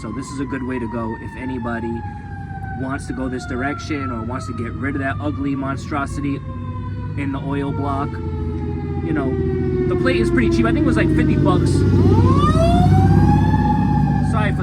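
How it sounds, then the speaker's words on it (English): A siren wails steadily and then sweeps upward as an emergency vehicle passes close by, with someone talking continuously over it. "Sorry for the sirens"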